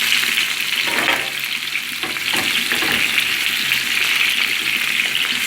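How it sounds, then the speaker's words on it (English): Seasoning sautés in about three tablespoons of vegetable oil over medium-low heat for ackee and saltfish. A loud, continuous close-up sizzle runs throughout, with a few stirring scrapes and no voices. "I added around 3 tablespoons of vegetable oil. I'm gonna saute it just a bit."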